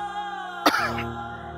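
A man coughs once, sharply and close, a single rough burst set against quiet, sustained background music.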